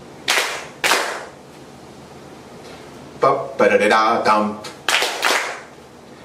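An audience at a bass clinic in Busan claps in unison: crisp, loud group claps in pairs, with a man singing a rhythmic scat phrase between the clapping.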